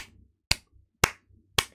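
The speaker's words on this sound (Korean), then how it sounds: "자 박수." Three sharp hand claps, evenly spaced about half a second apart, loud and close, with faint low background noise between them.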